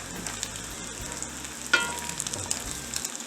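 Strips of homemade buckboard bacon frying in a skillet, a steady close crackling sizzle with scattered pops and a brief sharper spatter midway; no one speaks.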